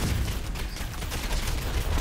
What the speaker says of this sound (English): Walk into the fireworks.